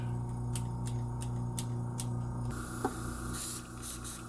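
A steady airbrush hiss that runs continuously, with faint regular clicks early on and a few louder puffs of spray near the end.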